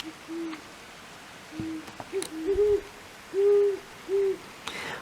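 An owl hoots several times in a quiet night setting, each call a soft, low, drawn-out note spaced a second or so apart and sounding somewhat distant against faint background hiss.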